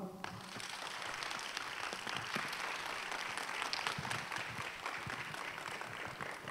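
A church seminar audience gives a lecture speaker sustained applause, many hands clapping steadily and evenly throughout at a moderate distance.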